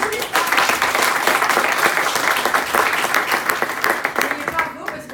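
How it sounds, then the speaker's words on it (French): Dense, sustained applause from an audience at a Sunday morning stage event, many hands clapping steadily and loudly throughout, with a voice speaking over it. "Et on applaudit ceux qui viennent sur scène, mais applaudissez-vous"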